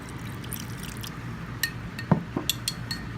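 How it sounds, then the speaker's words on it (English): Borax mixed with water is poured into glue to make slime, heard as a short run of soft liquid splashes and drips at close range over a quiet background, with no talking. "get your borax with water and pour some in there."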